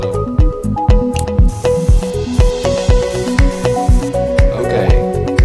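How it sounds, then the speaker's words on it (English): Spray paint hisses in short, rhythmic bursts in the game Stencil Art Spray Masters, loud and close over a looping, beat-driven backing track. "Okay, you can spray it."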